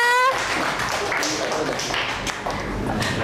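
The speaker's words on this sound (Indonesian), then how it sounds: "Silakan beri tepuk tangannya." Schoolchildren in a classroom clap for classmates about to recite, a brief patter of uneven, fairly close hand claps mixed with faint voices.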